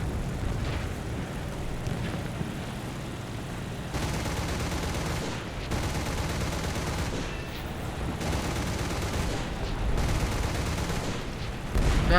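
Continuous dense gunfire and explosions from aircraft combat in the War Thunder video game, a loud unbroken rattling barrage with slight surges, and no voice over it.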